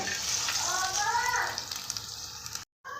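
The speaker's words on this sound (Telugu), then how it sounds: "పోపు వేసేసుకుందామండి ఇందులోకి" Hot tempering poured into curd rice for daddojanam crackles in a steady, close sizzle, with a voice briefly heard over it before a short cut-out near the end.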